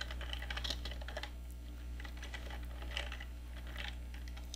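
Steady typing on a computer keyboard while writing C code, with quick, irregular clusters of key clicks over a constant low hum, fairly close and without talk.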